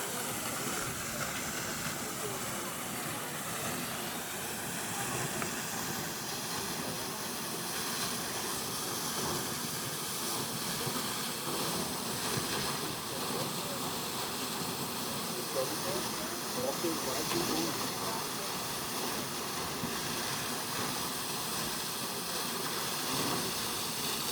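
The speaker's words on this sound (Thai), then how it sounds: "เป็นน้ำพุสูง เขาจะเปิดเป็นระยะนะครับ" A tall water fountain at Linderhof Palace sprays in a continuous, loud, rushing hiss that holds steady throughout, with faint voices in the background.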